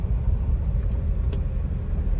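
A lifted Isuzu MU-7 SUV with a 3.0 i-TEQ turbo diesel on the move, giving a steady low engine rumble and road noise from inside the cabin, with no voices.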